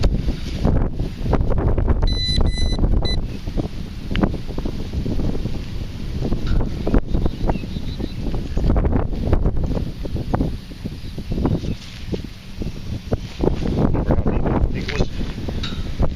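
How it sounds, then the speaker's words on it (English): Steady wind buffeting the microphone outdoors during metal detecting, a continuous rumbling roar throughout with occasional brief detector beeps and faint talk underneath. "The wind's kicking up."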